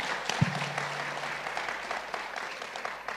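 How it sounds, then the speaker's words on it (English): Audience applause at a live conversation event with Sam Altman, a steady crowd clapping at moderate distance, with a brief low thump near the start. "give a big round of applause for Sam on this."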